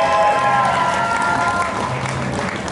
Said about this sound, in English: How about a clap for these two guys?